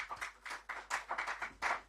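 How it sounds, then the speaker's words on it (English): A short burst of applause at a conference, many hands clapping in a dense, uneven patter for about two seconds, fairly faint and a little distant. "Please, a round of applause for her."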